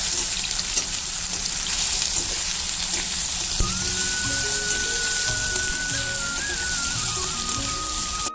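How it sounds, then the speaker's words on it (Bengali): Marinated soybean chunks fry in hot oil in a pan, giving a steady, loud hiss and sizzle that runs unbroken from start to finish with no talking. "সবিনটা আমি তেলের মধ্যে দিয়ে দেবো এক করে এটা ভালো করে ভেজে দেবো"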